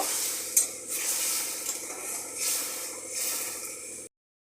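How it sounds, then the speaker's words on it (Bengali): Prawns sautéing in a pan give a continuous hiss and sizzle with soft stirring swishes, close and fairly loud; one brief clink sounds early and the sound cuts off abruptly near the end. "মাছটা দিয়ে একটু ভালো করে কষিয়ে নেব"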